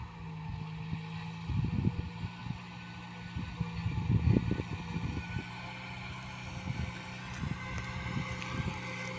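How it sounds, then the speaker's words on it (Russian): A homemade mini tractor resembling a Belarus model digs up a 2022 potato harvest, its engine chugging and rumbling with uneven surges and bursts of load, heard outdoors amid some wind noise. "Копаем картошку, урожай 2022 года, самодельным трактором, очень похож на Беларусь."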